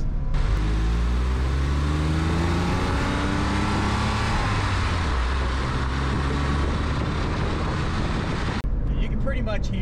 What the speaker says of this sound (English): I'm gonna give it some revs.